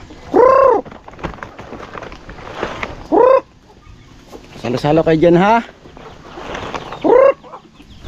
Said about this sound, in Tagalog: at ngayon patutukan na nga natin yung ating mga alagang manok